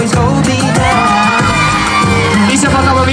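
A crowd at an outdoor 10K road race awards ceremony claps, whoops and cheers loudly and steadily, with shouts rising over the dense applause and music playing underneath.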